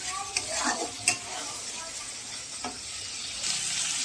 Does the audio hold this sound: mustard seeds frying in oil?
yes